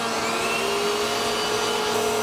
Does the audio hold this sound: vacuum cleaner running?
yes